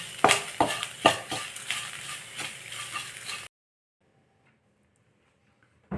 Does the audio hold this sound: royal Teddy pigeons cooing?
no